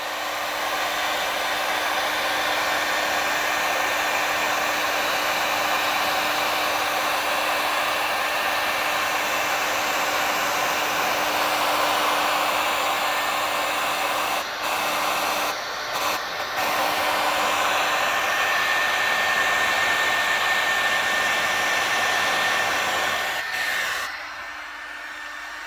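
Heat gun blowing steadily on faded car plastic trim, a loud continuous airy whoosh with a faint whine that runs unbroken for about twenty-four seconds before it stops abruptly.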